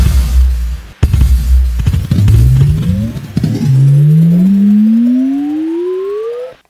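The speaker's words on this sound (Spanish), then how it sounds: "esto suena así con la distorsión" A loud, gritty distorted synth in an EDM beat rumbles and crackles, then a buzzy tone slides steadily upward in pitch like a revving engine.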